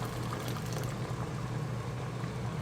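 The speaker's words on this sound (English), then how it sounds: "grab the jar, and what I'm going to do is dump the water out" Boiling water is dumped out of a hot glass canning jar during water bath canning, a steady, close rushing splash of liquid that carries on throughout without voices.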